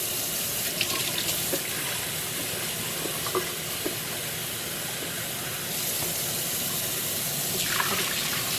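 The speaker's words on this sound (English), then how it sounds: "We're just going to keep working and draining our butter until it comes clean" Water runs steadily from a tap as freshly churned butter is rinsed and drained in a sink, a continuous splashing hiss with occasional clinks, fairly close and with no talk.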